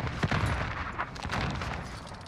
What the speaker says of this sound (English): I'm getting shot from the left